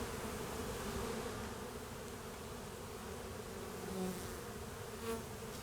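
Honeybees buzz steadily and close during a January hive inspection, a dense continuous drone with a few slightly louder swells and no voices.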